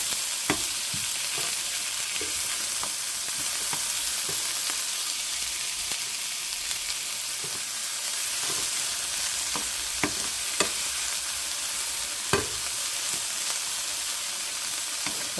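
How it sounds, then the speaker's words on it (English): Onions sauteing in a pan give a steady, soft sizzle throughout, with occasional sharp pops and light utensil clicks, close by and without talking. "So now I am just sauteing these onions just a little bit to get the flavor"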